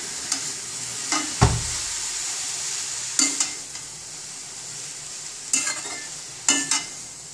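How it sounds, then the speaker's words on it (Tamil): Cooled cooked rice being stirred into a hot pan, with sparse scraping and clanking spoon strokes against the pan over a faint sizzle, no voices. "இந்த ஆறின சாதத்தை இதில் போட்டு கிளறேன்."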